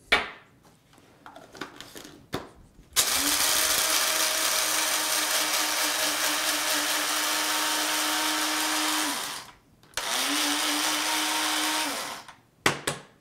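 An electric coffee grinder whirs loudly and steadily for about six seconds grinding beans for a Chemex pour-over, stops, then runs again for a shorter burst, with small clinks and handling noises between runs.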